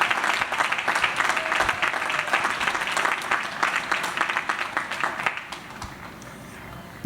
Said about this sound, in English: let's give them a round of applause for bringing you to this point.